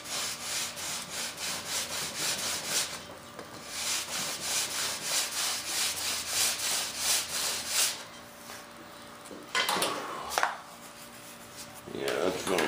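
Sandpaper with a long, smoother grit rubbed back and forth over a part of a big F-18 model turbine jet, steady rhythmic scraping strokes close up, pausing briefly near the end before resuming.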